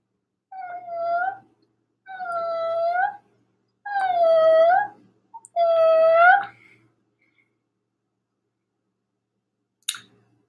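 A person imitates a cat with four drawn-out, tonal meows spaced evenly about two seconds apart, close and clear, followed by quiet and a single faint click near the end.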